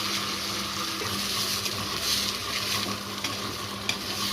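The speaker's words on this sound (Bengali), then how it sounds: "এবার চালটাকে ভালো করে ভাজতে হবে।" Rice frying in hot ghee in a kadai with cardamom, cinnamon, bay leaf, cloves and garam masala for pulao, a soft continuous sizzle with scraping stirs throughout.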